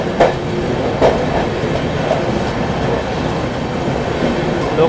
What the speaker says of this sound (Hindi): ये आ गई गरीब रथ एक्सप्रेस।